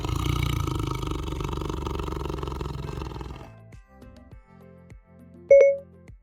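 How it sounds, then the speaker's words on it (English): A Siberian tiger gives a deep, rough roar lasting a few seconds and fading, followed by a few quiet clicks and a short electronic chime. "A Siberian tiger sounds like this."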